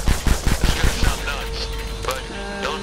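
Rapid bursts of automatic gunfire in the Polygon VR shooter game, a quick run of sharp close shots in the first second, then fading into game ambience with brief tonal effects.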